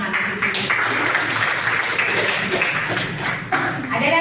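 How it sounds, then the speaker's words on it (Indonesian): A classroom group claps, a brief burst of applause that starts abruptly, runs unevenly with a short dip near the end, and has some murmuring voices underneath. "Kasih tepuk tangan."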